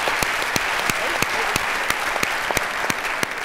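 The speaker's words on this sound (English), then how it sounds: "let's give him a round of applause." An auditorium audience at the Indiana's Junior Miss 2008 pageant claps in sustained applause, a dense wash of hand claps with sharper individual smacks standing out throughout.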